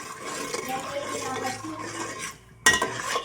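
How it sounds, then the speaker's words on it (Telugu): Sugar stirred in a cooking pan until it melts, for homemade gavvalu sweets: continuous close scraping and rubbing of a utensil against the pan, a brief pause, then a sharper clatter. "షుగర్ కరిగేంత వరకు ఇలా తిప్పాలి"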